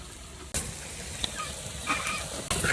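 Chili powder is stirred into kolai greens and hagra greens cooking in a pan, a soft, low sizzle with faint stirring scrapes and a couple of sharp clicks of the utensil, heard up close with no talking.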